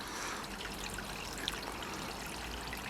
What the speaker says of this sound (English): It's just running, well, running water through it.